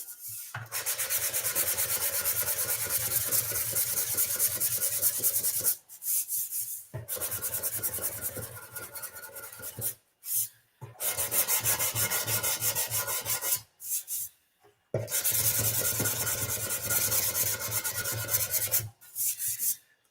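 Steady abrasive sanding strokes on a vintage motocross tank, loud and close, running in long continuous bursts separated by brief pauses.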